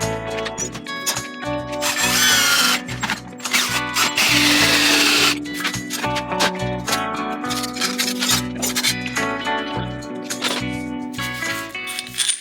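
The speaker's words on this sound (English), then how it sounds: "I'll drill this hole first." Hand drill boring a hole through the steel sill of a 1969 Triumph GT6 Mk2 during restoration, with whirring bursts, gritty scraping and workshop clatter between short runs.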